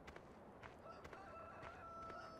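Chickens cluck and a rooster crows in the Farming Simulator 2013 video game, a faint, steady barnyard bed of short clucks with a few sharper calls scattered over a couple of seconds, with no talk.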